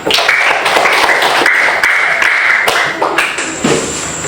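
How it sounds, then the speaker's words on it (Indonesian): Students in a classroom clap for one another, a loud, uneven patter of claps with sharp individual hits, layered over steady tonal sounds and a brief voice near the end. "beri tepuk tangan untuk kalian semua"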